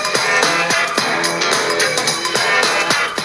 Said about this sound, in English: And the two of them together sound like this.